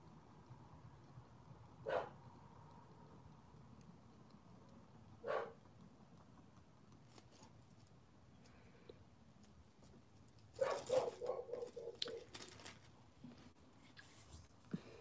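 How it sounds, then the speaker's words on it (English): A young dog, about two and a half years old, barks indoors: two single deep barks spaced a few seconds apart, then a louder volley of rapid barking near the end, over quiet room tone. "she has some bass in her bark. Oh my gosh, she's going crazy."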